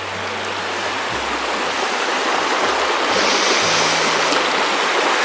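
Glacier meltwater stream in western Canada rushing steadily and loudly, a continuous close wash of water with a faint low hum underneath.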